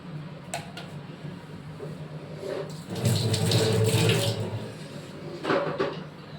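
Liquid poured into a hot chili mixture while cooking, a steady watery trickle that swells into a fuller, louder pour midway, with a brief splash near the end, close by.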